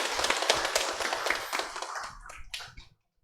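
A church congregation claps to welcome a visiting elder's son at a Sabbath service: a burst of brisk, separate hand claps that thin out and trail off into silence after about three seconds.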